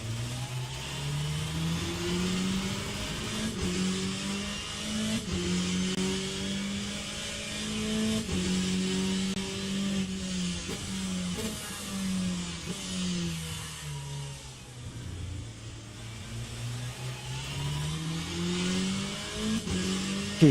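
A race car in the rFactor 2 video game accelerates through wet, rainy conditions, its engine note climbing and dropping through gear changes in a continuous, mid-loud drone that runs alone for the whole stretch.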